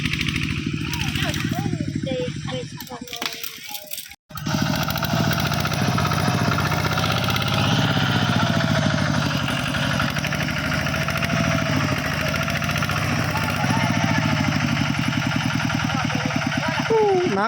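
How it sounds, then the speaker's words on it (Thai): Loud, continuous tractor engine chugging and straining under heavy load while pulling during a flash-flood search, with shouting voices over it and a brief cutout early on. "เอารถไถดึงรถอีแตนดึง"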